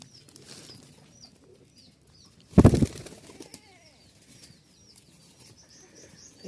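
Giribaz pigeons, a rare large-feathered breed, with a loud burst of wing flapping near the middle, set against faint soft cooing and quiet background sounds.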